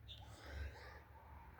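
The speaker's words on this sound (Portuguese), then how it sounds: "me desculpe por esse espirro." A single short sneeze bursts out at the very end after near silence, loud and close.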